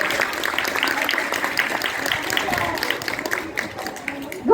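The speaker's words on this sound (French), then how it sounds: "On peut l'applaudir déjà, c'est pas mal." Audience applause at a sea lion show, a sustained wash of clapping from a crowd that holds steady and then thins out, with some background chatter mixed in.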